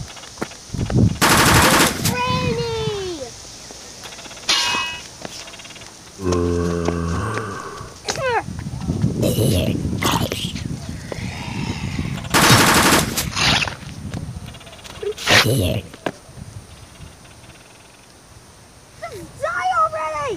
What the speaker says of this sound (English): This new shotgun someone gave me is actually really powerful.